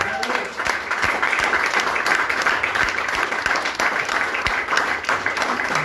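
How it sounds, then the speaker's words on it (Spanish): A church congregation applauds during a sermon, a continuous crowd of clapping with sharp individual claps standing out, with voices mixed in beneath it. "Dale un aplauso a Dios."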